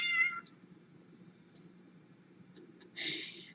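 A cat meows briefly at the start and again near the end, two faint indoor mews separated by quiet.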